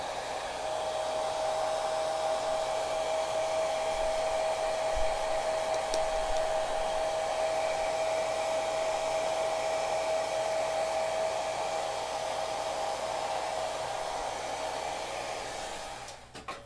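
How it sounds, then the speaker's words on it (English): A blow dryer runs loud and close, a constant whooshing roar with a steady whine that holds for about sixteen seconds before switching off at the end. "I'm going to use the blow dryer"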